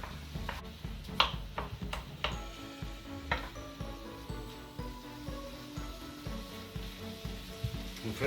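Chopped vegetables and meat fry in melted butter in a tray, a soft, close sizzle broken by clicks and scrapes of stirring and the knock of a utensil against the pan.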